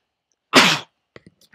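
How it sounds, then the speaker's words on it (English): A single sharp allergy sneeze, close and loud, with a quick breathy burst followed by a few faint small sounds, then quiet. "Oh, I got to sneeze again."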